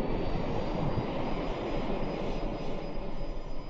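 A T-7A Red Hawk jet engine starter engages in X-Plane 12, a steady whining, rushing turbine hum that holds evenly for a few seconds without speech.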